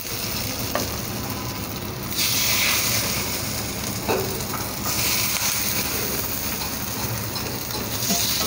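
Bread and chana dal snack sizzles steadily in an oiled pan over a low flame, a continuous close frying hiss with brief swells and faint stirring clicks, with no talking.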